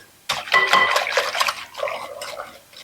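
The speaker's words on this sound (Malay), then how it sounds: "kita gaulkan adunan tepung kita ni" Flour batter for kuih tepung bungkus being mixed with coconut milk in a bowl, giving a run of close, fairly loud clinking, sloshing and scraping strokes against the bowl, with irregular bursts that ease off toward the end.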